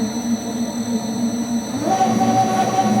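A shock dyno testing machine runs in a workshop, a loud continuous mechanical drone with high steady whine that shifts upward in pitch partway through, with no talking.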